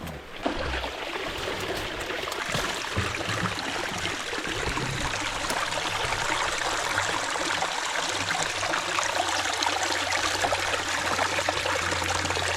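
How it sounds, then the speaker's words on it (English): A small spring trickles out of a mountainside on Vancouver Island, giving a steady, close, continuous splashing and gurgling of running water that carries through the whole stretch without talk. "There's a little spring coming out of the mountain here."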